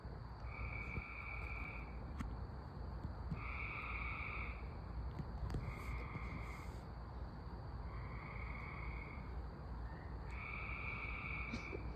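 Frogs croak in repeated bursts from a played recording, about five long pulsing calls at steady intervals over a constant background chorus and hiss, with no talking.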